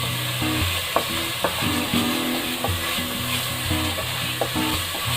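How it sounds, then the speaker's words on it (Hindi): Masala gravy frying in a pan, heard as a steady close sizzle with occasional soft scrapes and clinks of stirring throughout. "और ये हमारी ग्रेवी भून रही"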